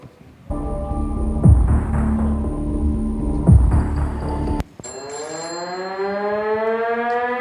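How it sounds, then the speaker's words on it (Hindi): A civil defense siren wails loudly in long rising and falling tones, with a short break before it winds up again. "अरे ये सायरन क्यों बज रहा है"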